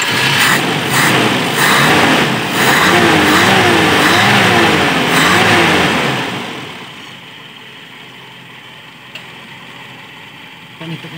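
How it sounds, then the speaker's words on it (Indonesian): A Toyota Kijang Super car engine starts and revs, a loud, rough idle rising and falling in steady pulses for several seconds before dropping away to a quiet hum. "Kita coba hidupkan kawan ya."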